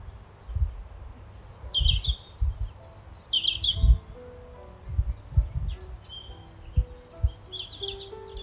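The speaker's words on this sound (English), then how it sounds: "Something that's special is all the bird song" Birds sing outdoors in a quiet place, with several short chirps and trilling phrases coming and going at moderate distance over faint rustling background and occasional low thumps.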